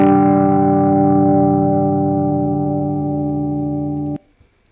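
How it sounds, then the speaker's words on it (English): An electric guitar run through fifth-order polynomial distortion coded in Python rings out as one loud, sustained, buzzy chord that slowly decays, then cuts off abruptly after about four seconds. "The polynomial distortion, fifth order polynomial. This is going to be aggressive."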